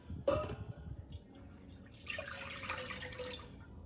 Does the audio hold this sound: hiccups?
no